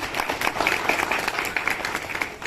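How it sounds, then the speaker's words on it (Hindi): An audience at a talk in Khadki about Chandrashekhar Azad's legacy claps for a speaker, steady dense hand clapping heard throughout at moderate volume. "उनके लिए एक बार जोरदार ताली बजाइए"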